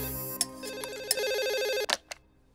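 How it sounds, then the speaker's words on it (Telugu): A telephone rings with a bright electronic ringtone, a repeating warbling tone that runs for more than a second before cutting off, with a couple of short sharp clicks around it; the sound is fairly quiet and heard alone. "ఇదిగో ఫోన్ రింగ్ అవుతుంది చూడు"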